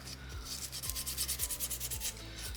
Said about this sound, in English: I want to ensure that I'm getting every single spot on this stone run over with this sandpaper